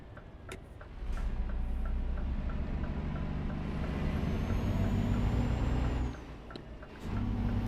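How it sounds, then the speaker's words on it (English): A loud truck engine in a Greek trucking video game, a deep steady rumbling drone with ticking that dips briefly near the end then surges back, alongside faint clicks and a rising whine. "Oh, it's a proper noisy truck."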